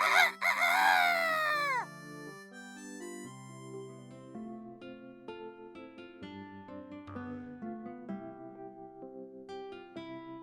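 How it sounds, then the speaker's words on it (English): A cartoon rooster crows loudly at the start, a bright drawn-out cock-a-doodle-doo, followed by cheerful tonal music continuing underneath. "And Mr. Cockerel once again loudly crows."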